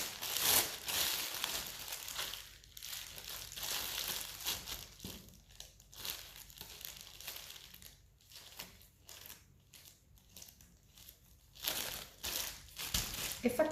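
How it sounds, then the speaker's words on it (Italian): Plastic bag crinkling steadily as veal inside is massaged with mustard, a close, continuous rustle that comes in bursts with short quieter gaps. "E facciamo un massaggio alla carne."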